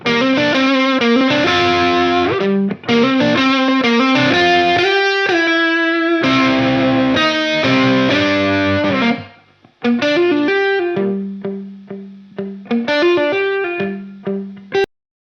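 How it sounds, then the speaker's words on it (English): Dry electric guitar blended with natural room ambience, chords and picked notes ringing with a distorted, spacious tone, loud and close, cutting to brief gaps before a sparser picked passage. "see if we can create a cool space around those dry guitar sounds"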